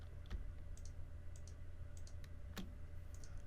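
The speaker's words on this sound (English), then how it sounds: "you can also select multiple parts by holding the Shift key and clicking" Computer mouse clicks while selecting parts in ProNest nesting software, a few light, sharp ticks scattered over a steady low hum of background noise.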